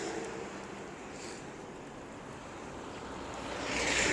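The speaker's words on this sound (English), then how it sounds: "The wind is like 4 times louder than me." Strong wind buffets a microphone outdoors at the Tokyo Marathon, a loud, steady roaring rumble that swells even louder toward the end, with no talk.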